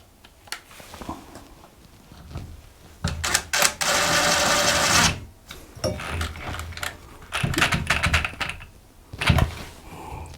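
A screw is driven in while a bathtub diverter is installed, producing close, loud bursts of mechanical whirring and rattling with clicks and knocks between them, the longest burst lasting about a second.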